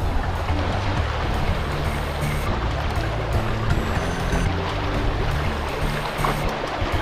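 A river in the hills of San Nicolas, Pangasinan, rushes and gurgles steadily, a loud continuous wash of flowing water close by with no talk over it.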